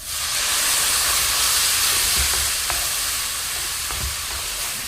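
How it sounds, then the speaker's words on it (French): Garlic in a hot pan deglazed with white wine gives a loud, steady sizzling hiss of steam throughout, with a few faint clicks of stirring. "Je vais ajouter l'ail. Remuer et laisser cuire une petite minute de plus. Et je vais déglacer le tout avec du vin blanc."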